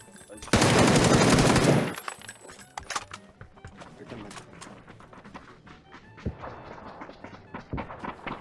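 A short, loud burst of rapid automatic fire from an MG3 machine gun in a video game, lasting just over a second, followed by softer scattered impacts and movement sounds.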